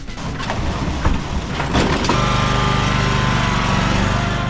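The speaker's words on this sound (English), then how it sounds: "So the mower that I'll be using is this one, my little HRU 196." A small Honda HRU196 walk-behind lawn mower sputters through a few uneven bursts, then settles into a steady, loud, close engine drone with no talking.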